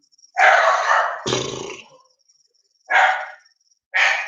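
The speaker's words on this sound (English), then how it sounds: "my dogs are going crazy" Dogs bark excitedly indoors in several loud, close bursts: a long run of barking followed by separate single barks with short pauses between them.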